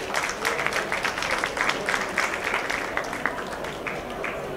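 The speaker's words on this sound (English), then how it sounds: "they deserve a strong applause" An audience at a conference side event on sustainable public procurement gives sustained, even applause, a dense patter of many hands clapping at moderate volume without pause.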